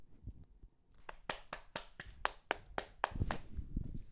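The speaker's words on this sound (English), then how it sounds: "Round of applause for all the Potters out there." Rhythmic hand clapping on a zombies gaming podcast, about a dozen crisp claps in a steady beat, close and fairly quiet, after a few faint taps and with low room noise underneath.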